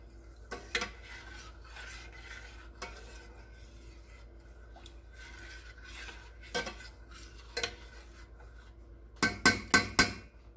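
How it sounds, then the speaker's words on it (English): A utensil stirs and scrapes Alfredo sauce in a pot on a stove over medium heat, making light intermittent scraping and clinking that builds into a quick run of louder metallic knocks at the end. "you want to keep stirring this on medium heat"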